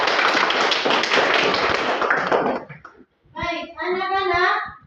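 Children in an elementary school religion class clap their hands together in a dense, steady burst for a couple of seconds, then young voices follow close by after a brief pause.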